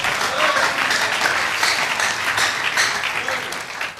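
A church congregation claps together in a sustained, dense burst of applause that stays loud and steady throughout, tapering slightly at the very end.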